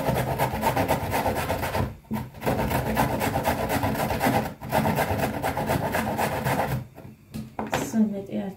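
A hand saw cuts through wood in steady back-and-forth rasping strokes, close and loud, with brief pauses between runs of strokes.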